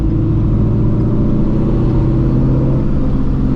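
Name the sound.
supercharged Shelby GT350 accelerating on Nitto drag radials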